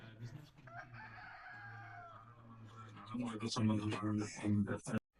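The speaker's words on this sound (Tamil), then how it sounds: "எவ்வளவு சாவல்கள், கோழிகள் எல்லாம் இருக்குன்னு சொல்லி" Roosters and chickens at a poultry market cluck and crow, a drawn-out crow early on and busy clucking later, while someone talks over the birds throughout.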